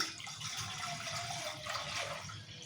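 Water pours steadily into a cooking pot on a stove, a continuous close splashing rush with no pauses.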